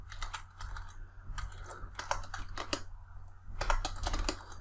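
Close-up typing on a computer keyboard, with quick clusters of sharp key clicks arriving in uneven bursts and short pauses over a low steady hum, no talking.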